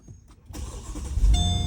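A 2009 Mercedes SL550 starts with its push-to-start button, a short crank rising into a loud, steady engine rumble that carries on to the end, with no one speaking.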